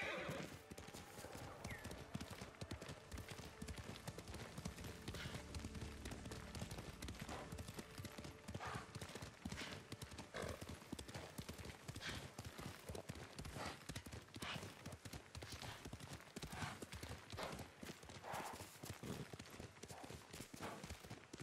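Horse hooves gallop in a fast, steady clip-clop across open ground in the Ghost of Tsushima video game, loud and continuous, with an occasional whinny and faint game ambience around them.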